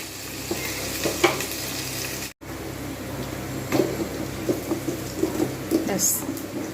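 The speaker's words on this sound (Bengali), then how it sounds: "পুরো লাল করে ভেজে নেবো একটু সময় নিয়ে যতক্ষণ না লালচে ভাব আসছে" Potatoes for a cabbage curry frying in hot oil until light brown, a constant crackling sizzle with spatula scrapes and clinks throughout, briefly cut off midway before resuming.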